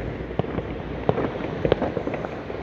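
Fireworks bursting over Adana on New Year's Eve, heard as scattered sharp pops and crackles of varying loudness over a steady rushing background, some bursts close together.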